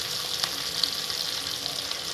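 Blood fry sizzling steadily in hot oil, a dense continuous crackle with a few sharper pops, close and fairly loud with no talking.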